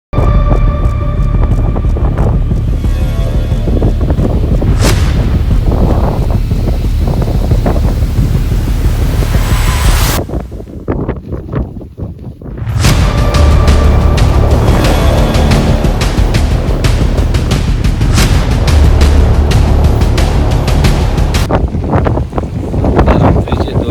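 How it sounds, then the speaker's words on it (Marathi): Strong wind gusts roar across a campsite at Kumbhe waterfall at two in the morning, battering the microphone with loud, continuous rumbling buffets that drop away briefly midway before surging back just as hard. "खूप वारा आहे"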